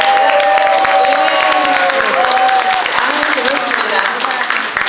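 Audience applause welcoming two guests from Japan at a talk concert in Mungyeong, Korea, a steady, dense clapping that fills the room for about five seconds with some crowd murmur.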